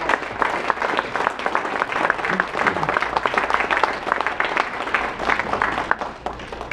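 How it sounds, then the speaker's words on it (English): Applause at a Rotary Club gathering in Pismo Beach, a sustained round of clapping from a roomful of people, dense and fairly loud throughout with individual claps audible within the wash. "Let's give them a big round of applause for opening up their house."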